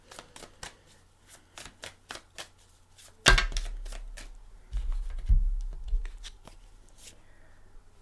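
Tarot cards are shuffled and drawn on a table: a run of crisp, close riffling taps, then a sharp slap of cards set down, followed by scattered softer card flicks and placements, with no talk.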